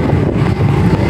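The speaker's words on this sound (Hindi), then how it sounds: "अभी हम चल रहे हैं बाइक पे बैठे हुए" Motorbike ride on a road, with steady rumbling wind buffeting the microphone and a low engine drone throughout, no voices.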